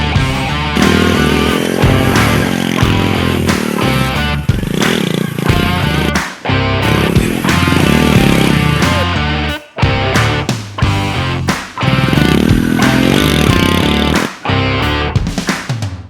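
A Honda Win 100 motorcycle engine runs loud and close, revving up and dropping off repeatedly with rattling, uneven bursts.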